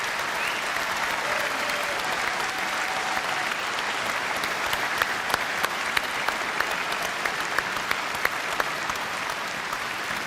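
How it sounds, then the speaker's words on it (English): Applause from a conference audience in a large hall, a dense, steady roar of many hands clapping that holds evenly throughout, with a few sharper individual claps standing out. "Please give them a big round of applause."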